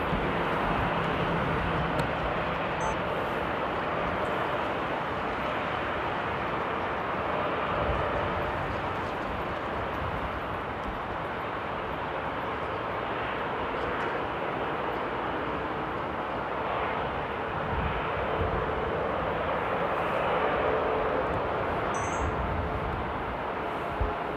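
A jet airliner taxis at Amsterdam Airport on a windy day: a steady, broad engine roar, fairly distant and unchanging, with faint clicks and rustles close by.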